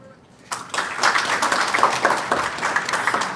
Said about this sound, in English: a round of applause for Auntie Sira